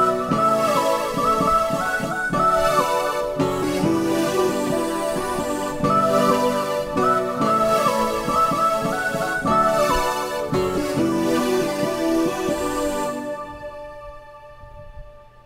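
Keyboard playing the instrumental part of a song with both hands, steady chords and melody for about thirteen seconds before ringing out to silence.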